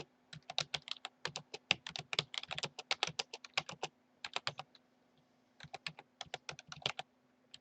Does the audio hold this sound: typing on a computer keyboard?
yes